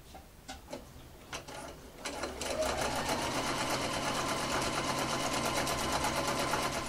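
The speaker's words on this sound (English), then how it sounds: "Now I'm going to be sewing a couple of millimetres from the folded edge all the way down" A sewing machine stitches a mock French seam a couple of millimetres from a folded fabric edge; a few light clicks and taps come first, then the motor settles into a steady, close, continuous rapid whirring and ticking until the end.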